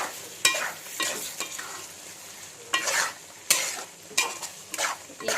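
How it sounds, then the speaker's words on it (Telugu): Gongura prawn curry being stirred in a pan: a spoon scrapes and drags through thick gravy in repeated strokes over a soft oily sizzle, close and fairly quiet, with no talk. "అయితే ఒకసారి మొత్తం అంతా తిప్పుకోండి కూర"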